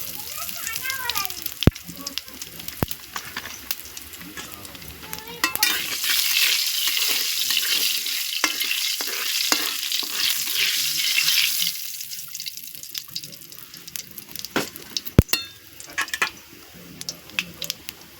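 Cumin seeds and bay leaves crackle in hot oil for a Bengali fish curry, a bright hissing sizzle that swells midway, broken by sharp utensil knocks, with a voice speaking now and then.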